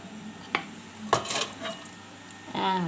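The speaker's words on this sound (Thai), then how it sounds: "จากนั้นแล้วก็เทใส่ หม้ออบลมร้อนของเราที่เราเตรียมไว้ได้เลยค่ะ" Brief clatters and scrapes of food tipped from a bowl into a metal basket, a few separate knocks followed by a soft sliding pour at the end.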